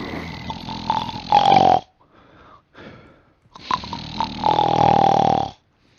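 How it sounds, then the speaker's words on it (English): A person snores loudly into a microphone during online game voice chat, two long, rasping snores separated by a quieter breath, close and unaccompanied. "This guy's been snoring in the microphone for 20 seconds."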